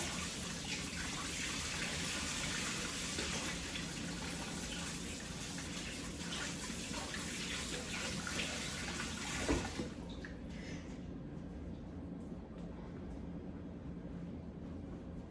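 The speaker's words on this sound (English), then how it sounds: "Let me wash my hands real quick." Kitchen tap running as hands are washed under it before roasting a turkey, a steady broadband rush of water that stops abruptly about two thirds through, leaving quiet room tone.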